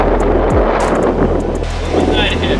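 Cold, stormy wind on the Barents Sea coast buffets the microphone in a steady, loud broadband rush, with a low rumble underneath and no clear voices.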